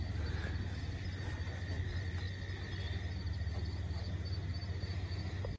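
Crickets trill steadily and densely all around a village resort near Santiniketan on a winter night, a continuous shrill chorus with a low hum beneath and no voices.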